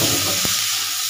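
Onions dropped into hot oil, a loud, dense, continuous hiss of sizzling with one brief soft thump partway through.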